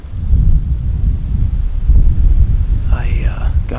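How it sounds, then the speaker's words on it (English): Strong wind buffeting the microphone with a low, rumbling roar, gusting steadily throughout, with a brief faint tone near the end. "it's hot and windy"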